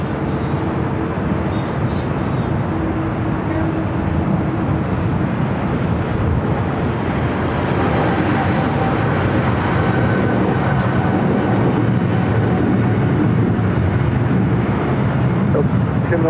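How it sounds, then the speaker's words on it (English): Japan Airlines Boeing 777-300ER in One World livery taking off from runway 25 right at LAX, a broad, sustained jet roar with wind buffeting the microphone, loud and continuous throughout. "Japan Airlines in the One World livery, the 777-300ER, taking off on the south side on the 25 right."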